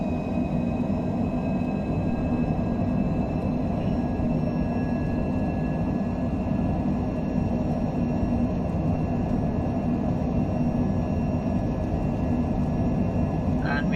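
A Cessna in a flight simulator game throttles up for takeoff, producing a steady droning engine hum with a faint rising tone, continuous and even in level over the whole stretch.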